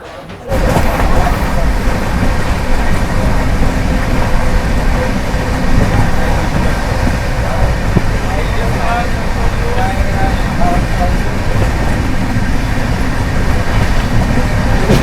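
A train pulls in at platform five of an Indian railway station, its steady rolling rumble and clatter filling the whole stretch while a station announcement voice speaks over it.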